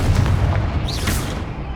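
A Confringo blasting spell explodes in Hogwarts Legacy, a loud, close boom with a heavy low rumble and a short whooshing burst that tails off over less than two seconds.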